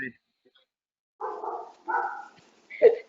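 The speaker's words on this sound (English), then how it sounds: "Hey, that was my dog, Liberty." A dog barks three times in a quiet indoor room during a video-call meeting, short voiced bursts spaced a little apart, fairly close and distinct against near silence.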